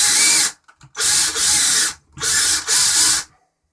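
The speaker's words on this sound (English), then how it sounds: "When you feel the drill bit breaking through," A power drill whines in three loud bursts, grinding through a metal screw in a BSA trigger guard, separated by short pauses.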